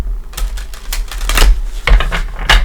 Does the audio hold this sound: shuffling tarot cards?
yes